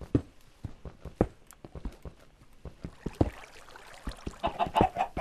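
Chickens cluck in a Minecraft video game: a run of short, sharp, repeated clucks with uneven rhythm, close and fairly loud, with some denser game noise toward the end and no talk.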